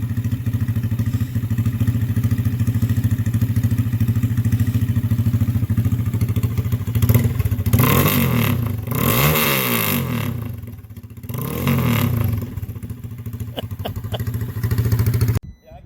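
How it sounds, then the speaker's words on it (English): A Honda Grom motorcycle with a straight-piped exhaust idles loud and close with a steady low throb, then is revved in a few sharp bursts that rise and fall before settling back to idle. "Give it just a little rev, Joe."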